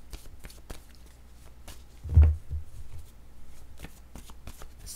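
Tarot cards shuffled by hand, a soft papery riffle and rustle at close range with one slightly louder flurry midway, no talking.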